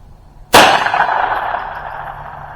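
A single sharp .22 Long Rifle gunshot from a Ruger or Savage rifle cracks loud and close, then rings out in a long decaying tail.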